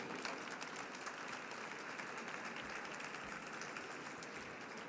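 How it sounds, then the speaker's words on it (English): An audience applauds at a conference session, continuous steady clapping from a large crowd, heard fairly faint and distant with no speech over it. "Please give him a round of applause."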